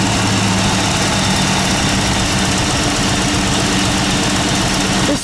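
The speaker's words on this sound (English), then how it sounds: "We'll let it idle." A 1986 Chevrolet Camaro Z28 IROC idles loudly and steadily up close, a dense, even engine rumble with a faint rhythmic pulse that continues throughout.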